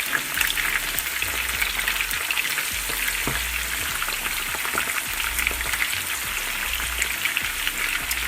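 Fish pieces fry in hot oil, giving a steady, close crackling sizzle with frequent small pops that runs unbroken throughout, with no voices.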